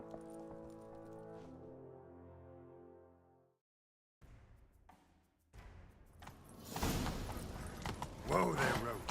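Hoofbeats of a galloping horse pound in a quick rhythm in The Witcher 3, rising in loudness amid game music and louder action noise, with a voice speaking early on.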